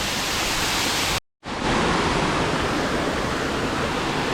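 Waterfall near Munnar heard from close by, a loud, steady rushing roar broken by a brief silent gap before resuming.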